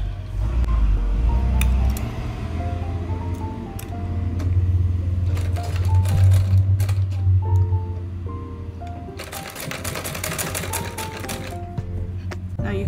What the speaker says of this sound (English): you run a stitch over here just so that it's closed up nicely like the rest of the mask